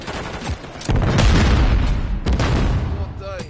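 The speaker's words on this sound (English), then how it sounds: "Throwing grenade!" A grenade blast in the Call of Duty video game, heard as a loud, broad boom that swells and rumbles for a couple of seconds amid gunfire-like bursts, with voices shouting around it.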